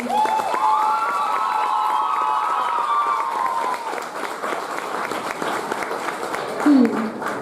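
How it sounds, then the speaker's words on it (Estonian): An audience applauds a second-grade class at a school performance. Sustained clapping and crowd noise run under a sung or played melody, ending with a brief shout. "Suur aplaus meie Sõmeru põhikooli teisele klassile."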